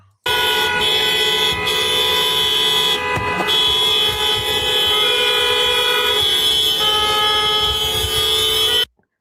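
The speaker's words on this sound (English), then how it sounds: "every single honking horn you hear" Car horns honk continuously in a busy street outside a hotel during a crowd gathering with police present, loud, layered, sustained tones blaring without pause, no talk.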